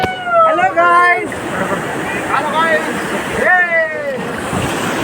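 Sea waves and rushing water around a boat off Puri beach, with strong wind buffeting the microphone and people talking loudly and excitedly over the steady wash.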